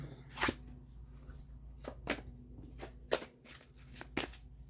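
Tarot cards being gathered and handled, with several short papery shuffling and slapping bursts at irregular intervals over a low steady hum, fairly close and moderately quiet, with no talking.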